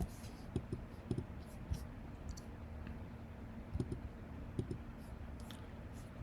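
Keyboard keys typed in short bursts while entering a line of Python code, faint clusters of clicks spaced across the stretch over low room hum, with no speech.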